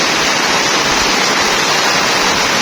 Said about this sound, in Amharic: ስልኬን ዝናብ እየመታው ነው